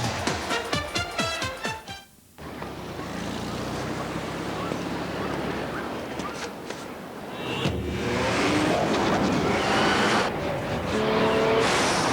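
A 265 horsepower Nissan Maxima is driven in a commercial, its engine roaring and revving loudly, with whooshing passes and tire noise over a rushing, wave-like background and a brief quiet gap.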